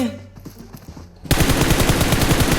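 Gunfire in PUBG Mobile: after a quieter second, a loud rapid automatic burst erupts and keeps hammering in quick, evenly spaced shots until the end.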